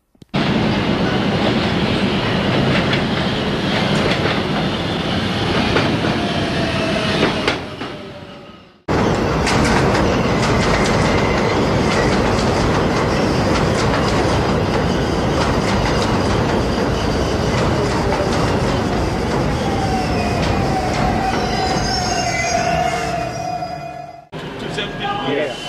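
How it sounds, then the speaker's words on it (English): R110A subway car with three-phase AEG AC traction motors, running loudly with steady rumble, rhythmic wheel clatter and rising and falling motor whine, briefly interrupted, then continuing with occasional wheel squeal. "In my opinion, this traction system sounds pretty unique."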